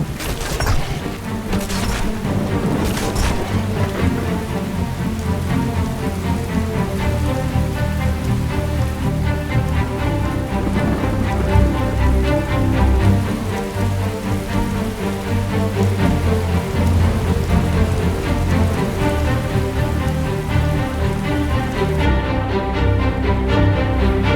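Steady, heavy rain patters on surfaces in the video game Skyrim, a dense continuous hiss with a few sharp knocks near the start, layered over a low sustained background tone.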